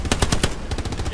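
Rapid automatic gunfire in a war video game, a fast run of loud, close bursts repeating steadily through the whole moment with no talk over it.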